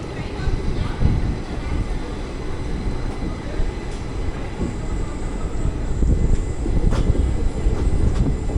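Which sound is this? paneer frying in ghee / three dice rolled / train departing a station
train departing a station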